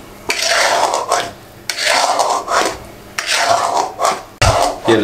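A spoon scrapes slowly through egg halwa in a pan, making four long rasping strokes separated by short pauses, each one loud and close with no talk.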